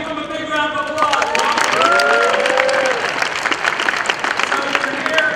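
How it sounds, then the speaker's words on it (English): A large hackathon audience applauds and cheers in a hall for several seconds, a steady dense clatter of clapping with some whoops and voices mixed in throughout. "give them a big round of applause"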